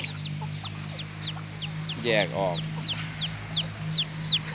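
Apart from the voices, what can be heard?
mother hens clucking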